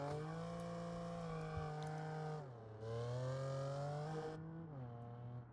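A modded car's engine driving in BeamNG, loud sustained harmonic drone that climbs, dips sharply around a gear change, then rises again, continuous and close with no talk.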